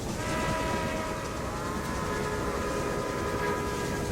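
Trains roll through a busy station in the railroad management game Railway Empire, a continuous loud rumble of wheels on track with sustained metallic squealing tones, heard alone without talk.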